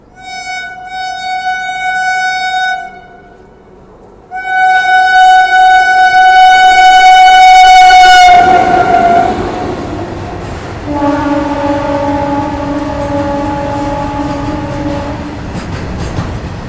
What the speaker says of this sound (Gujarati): આગળ સિગ્નલ દઈ દીધું એટલે મને લાગે છે થ્રુ હોય છે કે ગુડ ટ્રેન હોય છે